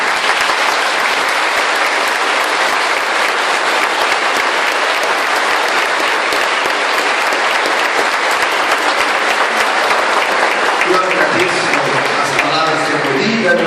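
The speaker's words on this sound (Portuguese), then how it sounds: "Então a comunidade acolhe com uma salva de palmas." A church congregation at the Nossa Senhora Aparecida parish claps in a loud, dense, sustained round of applause. Near the end a voice starts speaking over the fading clapping.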